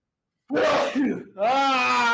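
A close, loud sneeze, then a drawn-out vocal sound right after it.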